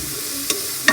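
Food cooks in a pan on the stove, a soft steady sizzle broken by two quick clinks of a utensil stirring against the pan.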